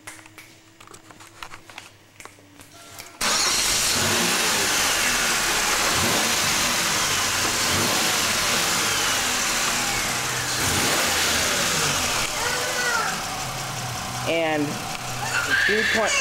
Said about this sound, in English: the Ram Air V6 system with Ram Air technology